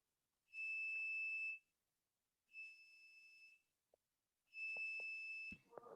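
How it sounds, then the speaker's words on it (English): Three electronic oven timer beep bursts, each about a second long, steady and high-pitched with gaps between; a few faint clicks and knocks follow. "That's my wife's timer in the oven."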